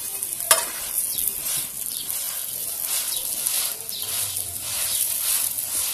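Lachha paratha sizzling steadily in oil on a hot pan, a continuous bright crackle with a sharp tap near the start and soft stirring movements throughout.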